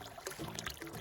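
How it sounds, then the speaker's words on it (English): Clean spring water from Fuerte Spring in New Mexico pours steadily out of a pipe, a soft continuous splashing trickle heard up close and faint. "That's straight out of the spring from that pipe."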